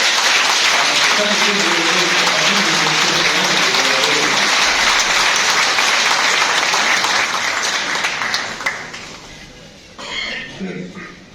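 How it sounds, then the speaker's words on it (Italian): A large crowd at an election campaign opening in Porto Viro applauds loudly and continuously, with voices murmuring beneath the clapping before it fades and speech takes over. "io farei un applauso per la presenza straordinaria"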